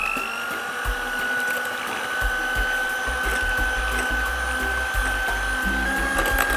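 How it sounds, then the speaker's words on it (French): Electric whisk beating eggs and sugar for lemon fondant cakes, a steady motor whine with rattling, bumping strokes against the bowl throughout. "Et on commence à fouetter."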